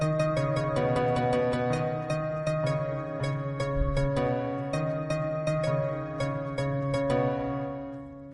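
A song played on Fortnite music blocks in the video game, a melody of evenly spaced bright tonal notes over sustained harmonics, steady and clear with no voices.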